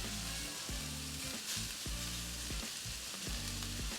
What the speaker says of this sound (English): Get a nice sear on them from the griddle.